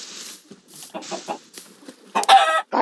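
Chickens in the Minecraft video game cluck in short, bright bursts, several quick calls close by with a louder cluster near the end, against quiet game background.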